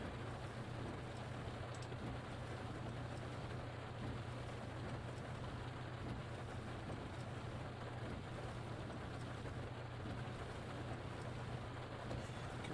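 Steady rain hissing on a surface in a bus-driving video game, with a low, constant engine-like hum underneath, unchanging throughout.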